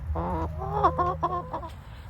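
A chicken clucks up close in a short, rhythmic run of calls over a steady low background hum, with no voices.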